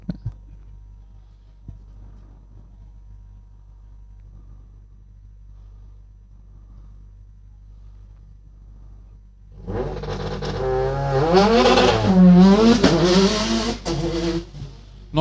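Subaru STI rally car at a hillclimb, first a faint distant hum and then, from about ten seconds, a loud engine rising and revving hard as the car approaches and climbs past.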